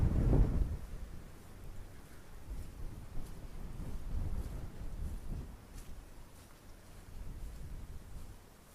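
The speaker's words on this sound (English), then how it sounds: "Very windy." Strong wind rumbles and buffets steadily in gusts across an open churchyard in rural North Fife, Scotland, swelling and easing over several seconds with no voices.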